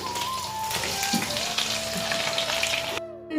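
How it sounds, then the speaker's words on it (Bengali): Steady, dense sizzling of food frying in oil, close and fairly loud, with a few soft clinks; it cuts off abruptly near the end. "এই যে আর এক লট ভাজা হয়ে গেছে"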